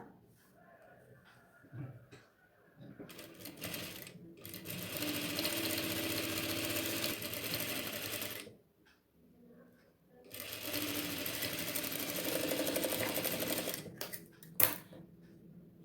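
A sewing machine stitches a round neck shape on nighty fabric in two sustained close runs separated by a short pause, with quieter handling sounds between.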